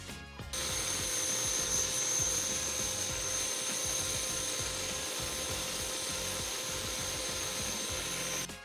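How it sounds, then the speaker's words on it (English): A blowtorch roars steadily as it sweeps across a wooden serving board made from scrap wood, a continuous close hiss and rumble holding at an even level for several seconds. "So I'll just move the torch around until I have a gradient that I'm happy with"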